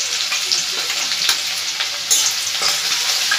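Cumin seeds, chopped ginger and garlic fry in hot oil for tadka dal, giving a steady close sizzle with small crackling pops and the occasional stir, no talking.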